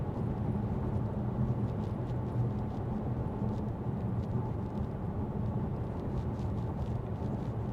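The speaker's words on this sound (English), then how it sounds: "A little bit of tyre noise, but it's pretty well insulated and it's comfortable." Steady, even tyre and road roar fills the cabin of a 2024 Ford Kuga FHEV hybrid cruising at 70 mph, a continuous low rumble with faint wind hiss and no talking.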